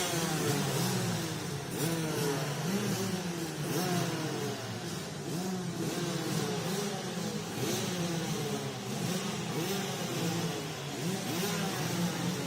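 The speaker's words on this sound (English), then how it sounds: "This is Rotax's Ultimate class. 2-speed karts," Rotax Ultimate class 2-speed racing karts with front brakes scream around a circuit in Macau, several engines revving and shifting pitch in overlapping waves, loud and sustained throughout.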